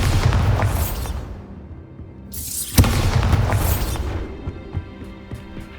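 A Bombarda spell explosion in the video game Hogwarts Legacy: a whooshing build followed by a loud booming burst with a crackling tail, then quieter game ambience.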